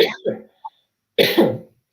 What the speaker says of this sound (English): I have to cough, sorry.